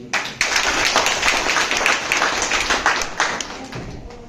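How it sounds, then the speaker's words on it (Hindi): A seminar crowd in Dumka claps loudly, starting abruptly with many overlapping hand claps that form a thick, crackling burst, then tapering off at the end. "अगर आ रहा है तो अपने जोरदार ताली कीजिए।"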